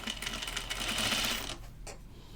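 Sewing machine running a continuous stitch on a garment, a quiet close whirring hum lasting about a second and a half before stopping, followed by a couple of faint clicks.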